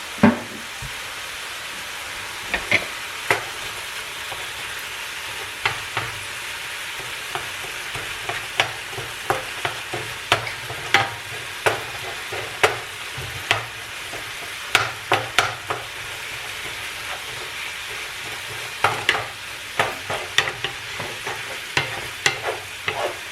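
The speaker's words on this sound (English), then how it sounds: "Give it a good stir" Beef broth and vegetables in a pot are stirred over a low, even simmering hiss, the spoon knocking and scraping in irregular close bursts; nobody speaks.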